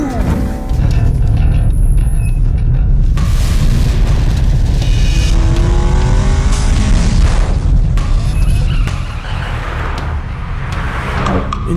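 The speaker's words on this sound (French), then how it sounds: "Une voiture arrive derrière." A car speeds along a road, its loud engine roaring continuously with rising and falling pitch and deep booming rumbles, close and dominant throughout.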